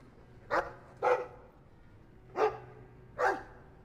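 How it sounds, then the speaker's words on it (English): Four separate deep barks from a dog in the video game Dragon Age 2, spaced unevenly and fairly clear over a quiet low hum, with no talking. "That is one meaty dog."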